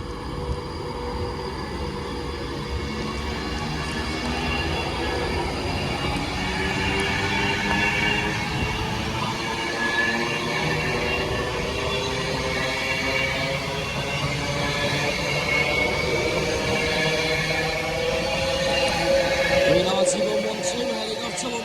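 A train pulls away from Wigan North Western station bound for London Euston, a steady rumbling roar with rising tonal whine that holds for about twenty seconds, while voices talk faintly over it on the platform.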